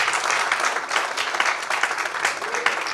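A church congregation claps loudly and continuously at a Sunday service, a dense, close wash of applause lasting the whole stretch with faint voices mixed in.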